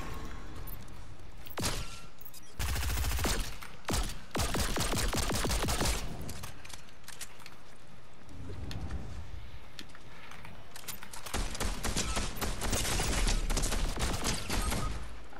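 Rapid pistol fire in Fortnite: dense bursts of sharp shots come in clusters throughout, loud and close, with short gaps between volleys and a heavier stretch of firing near the end.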